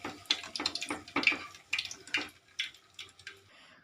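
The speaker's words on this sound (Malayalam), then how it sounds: "ഒഴിക്കണത് എൻ്റെ അണനാണ് ഇവിടെ ചായ ഒഴിച്ചുകൊണ്ടിരിക്കുന്നത്" Hot ginger tea poured from a pot into four cups at home, a series of short, close, soft liquid splashes and trickles, one after another with brief gaps.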